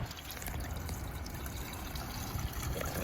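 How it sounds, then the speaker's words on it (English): A hose runs water into the water heater tank of a Casita travel trailer, a faint, steady trickling and filling wash that continues throughout. "I'm just going to put my hose up in it and just kind of put some water in there"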